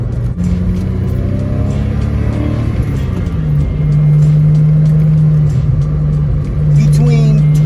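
A Porsche idles and revs with a rear-right wheel fault, its disintegrated e-brake rubbing against the wheel, a loud steady engine drone with a rising and falling tone close to the car.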